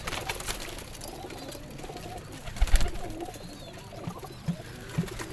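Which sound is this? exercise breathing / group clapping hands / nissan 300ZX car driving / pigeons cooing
pigeons cooing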